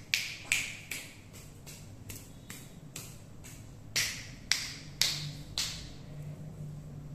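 Crisp finger snaps in a Hindu Durga Saptashati ritual, made while performing nyasa toward each direction: about a dozen sharp, close snaps in an uneven sequence, some louder than others, over a quiet background.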